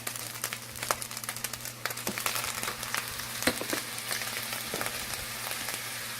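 Fried rice with shrimp sizzles in a pan as soy sauce goes in, a dense, continuous crackling hiss close up with scattered sharp pops and a low steady hum beneath, no talking.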